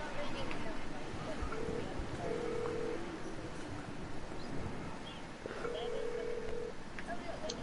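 A telephone call rings inside the Fortnite video game. Two short, pulsed ring tones sound a few seconds apart over a constant background hiss, and people talk alongside them.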